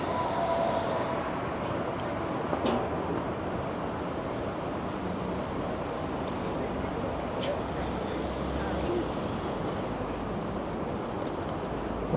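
Street traffic on Adelaide Street in downtown Toronto rolls past as a continuous broadband roar of passing vehicles, steady and moderately loud, with occasional faint clicks and bumps mixed in.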